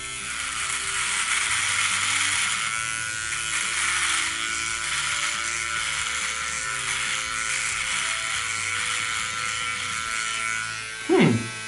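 A Philips Norelco OneBlade electric shaver runs dry over the thick hair of a mustache, giving a steady close buzz that holds for most of the clip and ends in a short louder burst.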